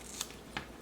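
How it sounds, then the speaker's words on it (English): Scissors snipping small pieces of craft foam, two quick, crisp cuts about a third of a second apart against a quiet background. "I'm just going to cut a couple little"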